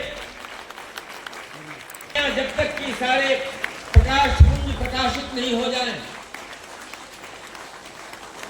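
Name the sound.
audience applause in a hall at youth festival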